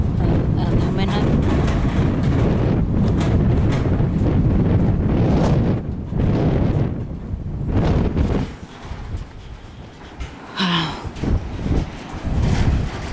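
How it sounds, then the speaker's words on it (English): Strong wind blows across an abandoned farm, lifting loose aluminum sheeting. Steady, heavy gusts roar and buffet the microphone close up, easing briefly near the end before picking up again. "See the wind just lifting that"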